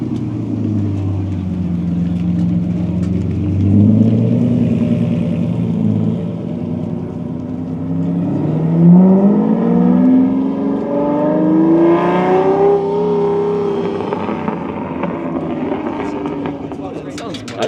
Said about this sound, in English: Lamborghini.